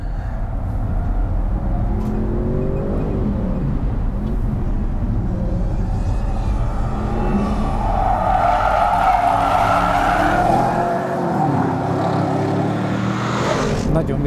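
An Audi RS6 Performance is driven hard around a race track during a timed lap, its engine roaring loudly and steadily throughout with tire skidding and squeal, while people talk over it.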